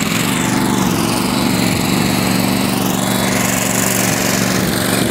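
A lawn mower cutting golf course greens drones steadily and loudly at close range, a constant engine hum with no pauses.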